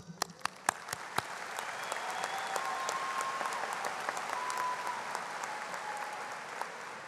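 Steady audience applause fills a university commencement ceremony at Texas A&M University-San Antonio, opening with a few distinct near claps before settling into a sustained, even wash of clapping from a large crowd.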